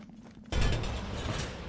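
Heavy hoofbeats of the Horse Abomination boss in the action roguelike Netherworld Covenant, a sudden loud mechanical clatter that bursts in after a quiet moment and rumbles on steadily.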